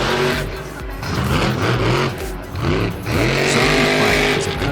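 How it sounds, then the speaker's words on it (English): Custom 2008 Ford F-150 Zombie monster truck engine, a loud, close, deep roar with repeated revs rising and falling, a brief dip in the middle before surging again. "Custom 2008 Ford F-150 zombie monster truck owned by Feld Motorsports."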